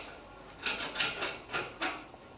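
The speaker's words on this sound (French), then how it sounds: "Fermer le couvercle, donc avec ces 4 molettes" Lid being closed on a lab vessel and its four knobs tightened, a series of close, brief scraping, rattling turns in a steady rhythm against a quiet background.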